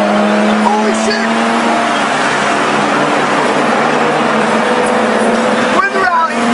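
Car engine on a rally stage, heard from inside with loud sustained engine and road roar throughout, a shifting engine note near the end, and excited voices talking over it.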